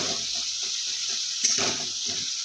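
A little water poured into a pan of spices being fried for a bitter gourd and rohu fish dish: a soft, steady watery hiss with faint bubbling, close and fairly quiet, without talk.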